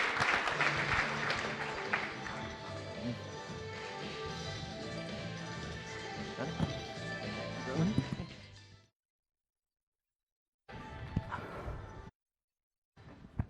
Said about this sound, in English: So if we can get a warm round of applause